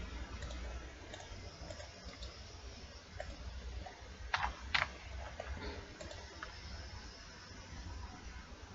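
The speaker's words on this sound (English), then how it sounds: "I'm just typing the same subheading" Light typing on a computer keyboard while entering a subheading in Microsoft Word: faint, quick key clicks over a low steady hum, with a brief cluster of sharper, louder taps midway.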